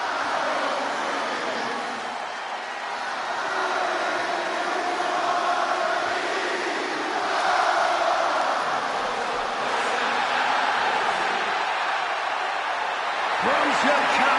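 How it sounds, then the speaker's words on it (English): A hometown Chicago crowd roars a sustained ovation for CM Punk in the WWE 2K26 wrestling game on PS5, a dense and steady wash of cheering that swells slightly at times. "Just listen to this ovation for the Second City Saint."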